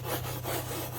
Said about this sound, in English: Scrub brush gets it right off.